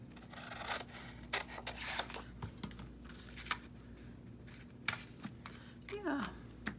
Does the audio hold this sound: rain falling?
no